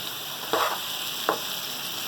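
Sugar is stirred into raw mango murabba with two short, soft, wet scraping strokes against a quiet background.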